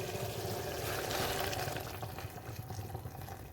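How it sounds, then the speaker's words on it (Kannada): Water pours steadily into a cooking pot for tomato bath, a continuous rushing splash, fairly soft, gradually thinning a little toward the end. "ನೀರು ಇವಾಗ ಹಾಕ್ಕೊಳ್ತಾ ಇದ್ದೀನಿ"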